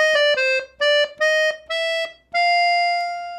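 Button accordion in F plays a short melodic passage of a song: a handful of separate reedy notes, then a longer held final note, close and alone.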